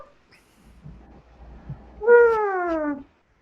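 A person's voice imitating a trumpet, a single buzzy, nasal mouth-trumpet note lasting about a second with a falling pitch, heard alone after faint background noise.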